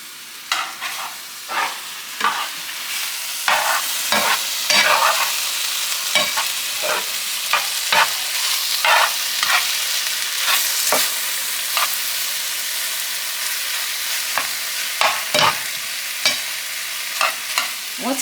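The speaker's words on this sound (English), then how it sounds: "Let's give this a stir." Chicken cooking in a pan outdoors in a garden, stirred with repeated scraping strokes at an uneven rhythm over a constant frying sizzle, close and moderately loud, with no talking.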